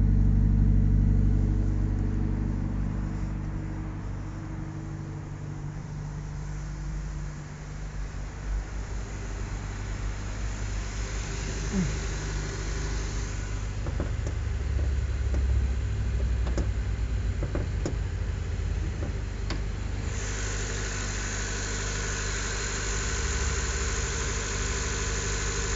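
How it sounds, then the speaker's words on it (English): A 2013 Honda Civic Si with a 2.4-litre DOHC i-VTEC engine idles with a deep, steady exhaust drone, heard close and continuous throughout with only slight shifts in tone and no talking. "it's got a nice deep exhaust tone to it."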